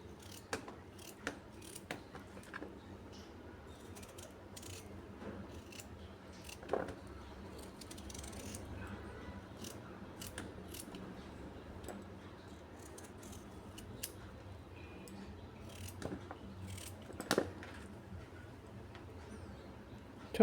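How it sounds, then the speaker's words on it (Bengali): A knife chops a tender young squash into small pieces on a board, giving faint, sparse clicks and taps at irregular intervals over a low, quiet room hum. "আলুর মতো করেই স্কোয়াশটা কাটছি।"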